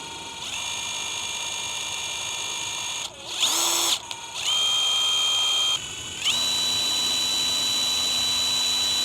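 A new DeWalt impact driver spins freely with no load, a steady high whine that cuts out, revs again with a brief change in pitch, and settles back into a continuous close hum.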